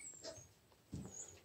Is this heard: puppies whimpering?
yes